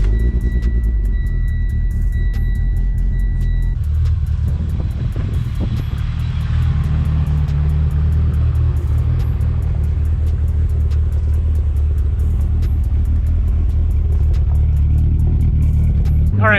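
A Mitsubishi Evo VIII out on a cruise, heard as a loud continuous engine rumble and road drone with a slight shift in tone partway through, and no talking.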